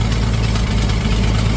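An antique tractor engine idles steadily up close, its low, even rumble carrying a faint leak from the manifold gasket, loud and alone without any voices.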